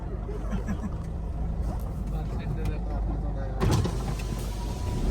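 A car rumbles along with a low, steady engine and road noise as it arrives at a farmhouse in Pali, faint voices murmuring, and a brief louder burst near the end.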